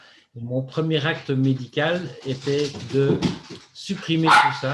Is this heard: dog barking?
yes